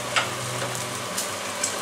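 Chicken frying in a pan for burrito filling, nearly crispy, giving a close, steady sizzle with faint pops and a light scrape or two, and no voices.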